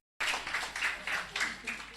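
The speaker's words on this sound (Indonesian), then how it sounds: "kita beri tepuk tangan untuk mereka" A church congregation at a Sunday service claps in applause, a dense bright patter that swells in several waves across two seconds after a brief silence.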